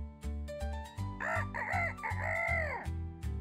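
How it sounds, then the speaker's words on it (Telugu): A rooster crows loudly and close, a drawn-out cock-a-doodle-doo rising and falling over a rhythmic musical backing with steady low beats. "ఒకరోజు నక్క కోడి అందంగా కూయడం విని ఇలా అంది"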